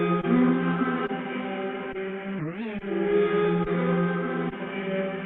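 A sample from a sample pack plays as a steady, muffled tonal loop with a dull, low-passed tone and a brief pitch bend in the middle, alone and fairly even in level.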